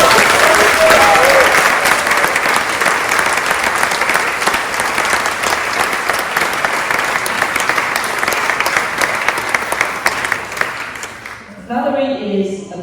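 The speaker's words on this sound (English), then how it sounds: "Could we please give a round of applause?" An audience at a college festival gives sustained applause, loud and dense for about eleven seconds before fading, after which a speaker begins talking.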